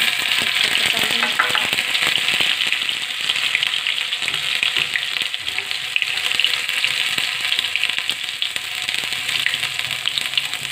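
Garlic and ginger with cumin fry in hot oil in a kadai for a mixed vegetable dish, giving a steady, close, bright sizzle with occasional stirring scrapes and no talk throughout.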